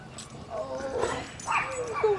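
A small dog yips and whimpers close by in short high whines and barks, with people talking over it.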